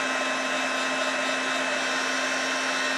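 A heat embossing tool set on low blows with a constant, close whir and a steady hum throughout, like a small hair dryer.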